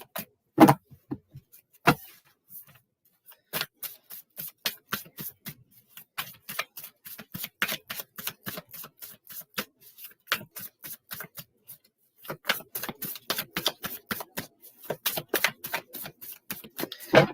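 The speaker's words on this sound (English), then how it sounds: "let's give it a good shuffle here" Tarot cards are shuffled by hand up close, producing irregular bursts of quick, crisp clicks and snaps with brief pauses between them.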